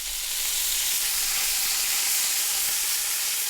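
A leftover pizza slice sizzles in bacon grease on a hot gas-fired griddle, giving a steady, close frying hiss with a faint low hum beneath it and no voices.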